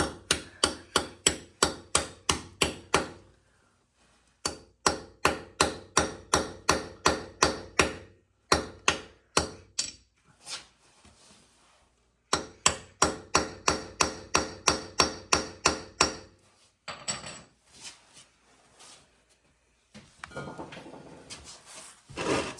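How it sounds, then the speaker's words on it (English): Loud, sharp hammer blows struck in quick, regular runs, with short pauses between each series of strikes, hammering parts into place during a John Deere 3039R tractor service. "not a bad idea to hammer these in"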